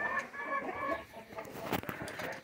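Hens cluck near at hand in a backyard coop during morning animal chores, a busy run of overlapping clucks and squawks with a louder burst partway through.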